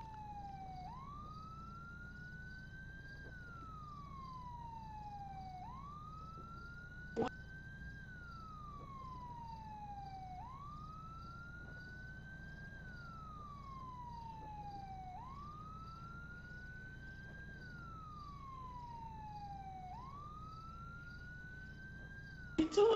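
A police siren from a roleplay video game wails in a steady, repeating cycle that rises and falls again and again, continuous and fairly clear, with a couple of brief clicks.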